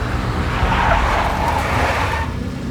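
A black Mercedes in the Max Payne video game with tires skidding and squealing under engine noise, a short continuous screech over a steady low rumble.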